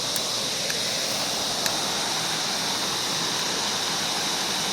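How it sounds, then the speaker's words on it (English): A small waterfall spilling over rocks makes a steady, even rush of falling water at moderate distance, unbroken and with no voices. "A bit of a waterfall there."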